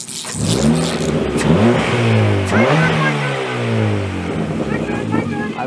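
A Ford Fiesta Mk6 engine, recently misfiring and just fitted with new spark plugs, revs loudly up and down close by, with rising and falling surges over several seconds.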